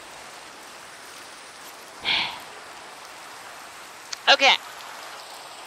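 Rain falls in Minecraft as a soft, steady hiss throughout, broken by a brief voice and a few short sharp sounds near the end.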